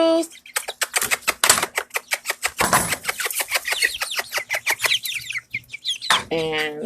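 Young chickens kept in a basement cluck and peck at a snack, with rapid close clucks and tapping pecks in quick irregular bursts and a few higher calls toward the end.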